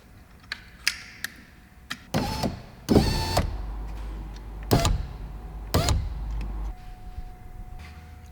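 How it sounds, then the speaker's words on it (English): The electric power window of a VW T6 door is lowered, whirring motor bursts coming in several short runs. Light clicks and handling knocks come between them, close by with no talking. "Now I'll take the window down until the screws reaches those holes."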